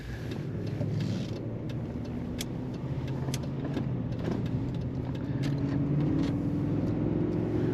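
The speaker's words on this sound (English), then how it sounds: "Today we're driving a 1998 Cadillac DeVille in gold." A gold 1998 Cadillac DeVille four-door luxury sedan drives along with a steady, moderately loud engine hum and road rumble, low tones rising slightly as it pulls, with no talking.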